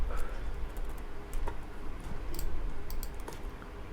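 An IP address is typed into Notepad on a computer keyboard, a close run of quick, uneven key clicks with a few louder taps and no speech.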